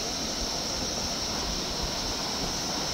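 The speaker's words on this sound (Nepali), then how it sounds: "यहाँ अहिलेको झरना त्यहाँ छ" Yaworang waterfall in Panchthar, heard as a steady, dense roar of rushing water, constant and fairly close, with no voices.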